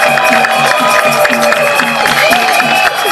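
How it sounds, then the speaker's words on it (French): Crowd cheering and applauding at a Congolese march in Brussels, loud and dense throughout, with voices and shouts mixed into the steady roar. "Je voudrais que tous ensemble nous applaudissions ces jeunes"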